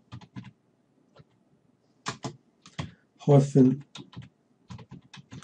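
Keys on a computer keyboard clatter in short bursts as a command is entered at the Windows 8 command line, with someone speaking between the runs of keystrokes.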